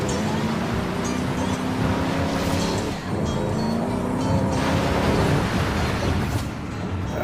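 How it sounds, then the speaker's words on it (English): Nissan Titan truck in Forza Horizon 5 plunging off a waterfall into a river, a steady loud wash of rushing water and engine roar filling the whole stretch, with a brief dip midway. "Off the waterfall we go in the Titan."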